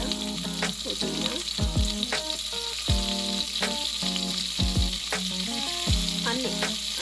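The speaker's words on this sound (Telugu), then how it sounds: "ఆనియన్ ఫ్రై చేయండి" Onions, green chillies, coriander and mint frying in a pan with a loud continuous sizzle, broken by repeated scraping stirs and clinks of a spoon against the pan.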